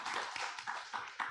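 Church congregation clapping in a short burst, uneven hand claps with a few sharper accents, moderately close and fairly quiet, no talk over it.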